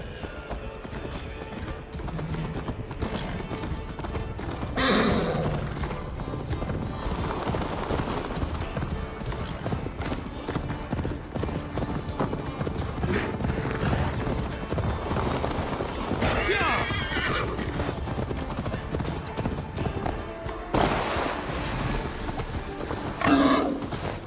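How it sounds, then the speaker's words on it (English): A horse gallops in Assassin's Creed Valhalla, with rapid, steady hoofbeats pounding and an occasional neigh. Voices shout over the ride from time to time. "Faster, Eivor! Ride like Sleipnir's hooves! Your horse is slow"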